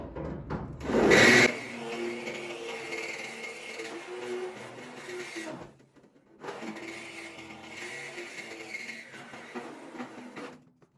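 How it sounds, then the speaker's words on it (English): A power drill fitted with a grinder bit whines and grinds against metal, cutting off a bolt head on a car's trunk hinge, in two long bursts separated by a short pause, with a louder scrape near the start. "I'm going to take the head of that off with this grinder bit on the drill on this side"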